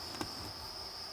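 Crickets kept in an enclosure with a waterer give a steady, high, continuous chirping trill, close and fairly faint, with a brief soft knock early on.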